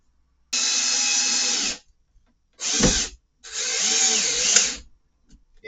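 A power drill drives screws into wood for a flight sim pedestal build, three bursts of high whirring: a long steady run, a short one winding down in pitch, then another long run, with quiet gaps between.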